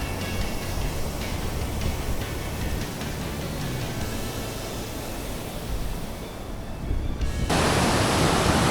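Kalmandavi waterfall at Jawhar, a dense unbroken roar of falling water and spray, loud and close, growing brighter and harsher near the end as the source comes nearer.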